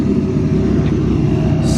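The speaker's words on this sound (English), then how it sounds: "Motor sounds great. Listen to it." A BMW E36 drift car idles close by with a steady, deep, throaty engine rumble, heard on its own and holding an even note throughout.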